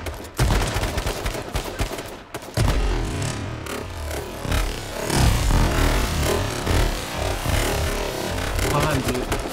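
A video game shotgun fired point blank booms amid a loud, dense barrage of gunfire and explosions that continues almost without pause.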